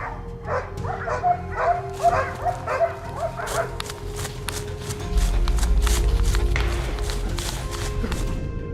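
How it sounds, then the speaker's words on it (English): A pack of hunting dogs on a forested mountain, closing in on a wild boar, barks in a quick rhythmic run of yelps that gives way to rustling noise. "the howling of the dogs echoed through the forest"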